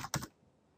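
A quick burst of a few keystrokes on a computer keyboard while entering a password during setup of a Cisco ASA 5505 firewall, lasting under a third of a second and then falling to near silence.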